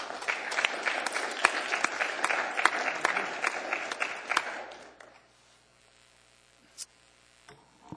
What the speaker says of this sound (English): I think a bit of applause and recognition is in order